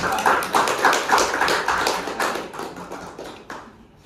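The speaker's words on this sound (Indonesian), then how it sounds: "Oke, kita kasih aplaus untuk kelompoknya kan." Applause from a seated audience for a presenting group at an academic session, a steady patter of many hands clapping for about three seconds before fading out.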